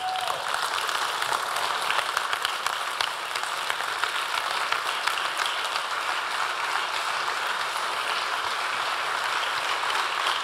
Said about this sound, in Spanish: Dije que le aplauda al Señor